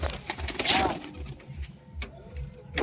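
A large female pigeon coos close by in a home loft, a soft throaty call standing out briefly amid shuffling and faint background noise.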